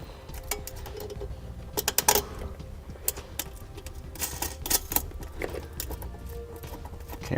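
A crimping tool presses a small ring terminal onto red wire for an RV battery charge line, giving scattered close metallic clicks, creaks and snaps against a low background rumble.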